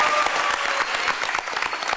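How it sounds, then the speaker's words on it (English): An audience applauds during the closing ceremonies of a hacker conference panel, producing a full, continuous wash of clapping throughout, fairly loud and close, with no speech over it. "I just want everybody to get a round of applause for Pam."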